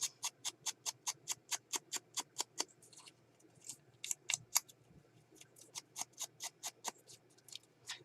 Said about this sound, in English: Here's my scissors.